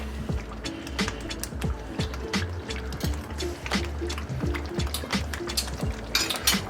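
Amatriciana tomato sauce reducing in a pan gives a steady, close bubbling with frequent small pops and spatters, with no one talking.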